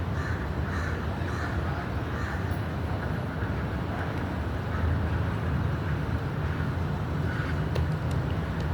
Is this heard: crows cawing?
yes